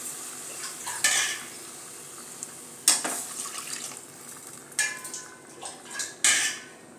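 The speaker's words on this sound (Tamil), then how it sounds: "தண்ணி ஊற்றிக்கோங்க தேவையான அளவு" Water is poured into a pot of Madurai-style mutton kuzhambu and stirred. A low watery wash runs under repeated close, bright metallic clanks and scrapes of a ladle against the vessel.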